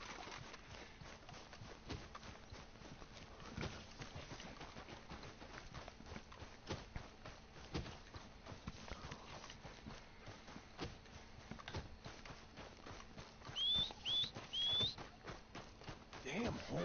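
Horse hooves clip-clopping in Red Dead Redemption II, a faint, rapid rhythmic patter of a running horse continuing throughout, with a few brief bird chirps near the end.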